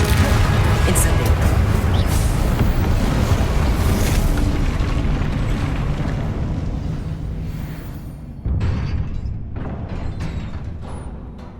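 A loud fiery burst from the Incendio spell in Hogwarts Legacy roars and slowly fades over several seconds, then a second sharp blast erupts and tails off.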